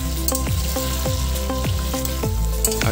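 Fried chicken pieces sizzle steadily in a pan of chilli chicken sauce, with a dense crackle and a regular series of scraping stir strokes, close and loud with no talking.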